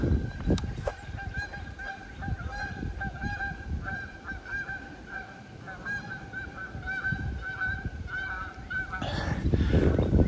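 Several geese honk repeatedly in a loose chorus, moderately close, with the calls continuing steadily throughout.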